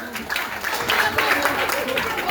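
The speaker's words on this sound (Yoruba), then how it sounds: "Ẹ pàtẹ́wọ́ fún un." An audience at a Yoruba-language school quiz at Methodist High School, Ibadan, applauds a contestant with a dense, steady burst of clapping, and voices talk through it.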